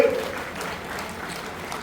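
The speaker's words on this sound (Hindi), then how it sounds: "ताली बजा के रामविचार जी का स्वागत करिए" A crowd at a political gathering claps to welcome minister Ramvichar Netam, a brief, moderately loud patter of many hands lasting about two seconds.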